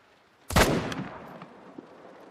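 A single sharp rifle shot from an M1 Iwaniec semi-automatic rifle in a hunting video game, loud and close with a short decaying tail, followed by a faint secondary thud.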